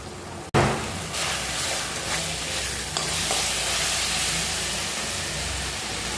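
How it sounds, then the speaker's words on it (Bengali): Spice paste with salt and turmeric fries and sizzles in a pan, cooked down with splashes of water, a loud, steady hiss running throughout after a sharp start, with occasional stirring scrapes. "মশলাটা প্রায় ভাজা হয়ে এসছে।"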